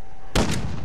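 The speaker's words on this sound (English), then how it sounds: "I'm shooting a big ass fucking sniper" A single sharp sniper rifle shot in Call of Duty: Modern Warfare bursts out suddenly, loud and close, then decays into a brief rumbling tail.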